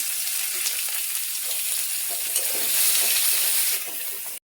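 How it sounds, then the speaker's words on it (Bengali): Chopped onion hisses and crackles as it drops into hot oil with bay leaf, the start of a spicy fish-and-taro curry; a steady, close sizzle runs throughout, swelling slightly near the end before cutting off. "পেঁয়াজ কুচি দিয়ে দিচ্ছি।"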